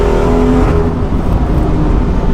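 A loud 510bhp BMW M240i engine roars continuously at speed on a race track, a steady throaty drone with whirring road noise and no talking.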